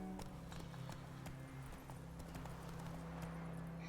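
Horse hooves clip-clop at a cantering pace in The Witcher 3 played on Nintendo Switch, a steady close rhythm over a constant game ambience with a brief whinny.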